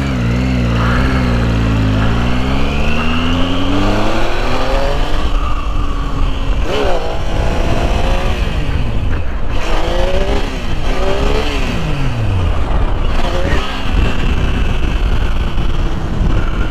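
A Triumph Tiger 800 XC motorcycle engine revs and accelerates repeatedly, its pitch sweeping up and down across several pulls, loud and close with heavy wind buffeting on the microphone.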